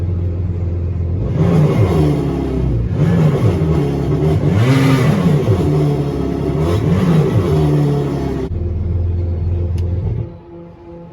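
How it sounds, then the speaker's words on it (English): A 2018 Yamaha 242x boat's engine rumbles loudly and revs up and down in repeated swells for several seconds, then drops back to a low idle. "Give her a couple revs."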